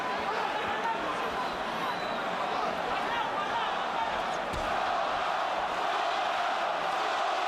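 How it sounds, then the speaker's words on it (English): Puerto Rican crowd chanting at a boxing match between Miguel Cotto and Zab Judah, a dense, continuous roar filling the arena with a commentator talking over it. "Puerto Rican crowd begins to chant for the man."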